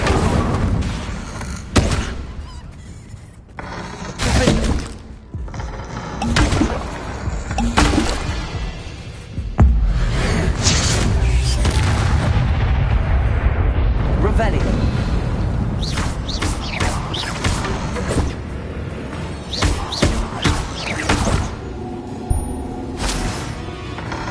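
Spell blasts and impacts in Hogwarts Legacy on PS5, a string of sharp bangs, thuds and crashes scattered irregularly through ongoing combat noise, some loud, some softer; no talk.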